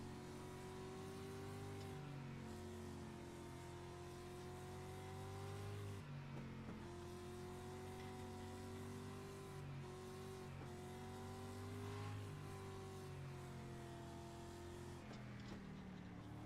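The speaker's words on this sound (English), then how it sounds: "we're just waiting for this pace car to get out of the way, and then we are going to start our race" Race car engines in the iRacing sim at Lanier National Speedway during a rookie street stock race hum steadily behind the pace car, faint and continuous with small revs and no talking.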